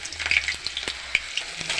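Chopped onion frying in hot oil with black cumin, stirred with quick scraping strokes under a steady close sizzle, no voices.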